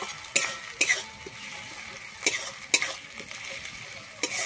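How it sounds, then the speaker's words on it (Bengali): Ginger paste and green chillies fry in a pan for a fish curry, a steady low sizzle broken every second or so by sharp scrapes of a spatula stirring against the metal. "আমি আদা কাঁচা লঙ্কাটা দিয়ে কিন্তু আবারও একটু ভেজে নিচ্ছি"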